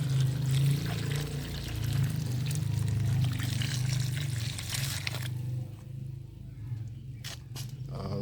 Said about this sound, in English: I will be watering it also.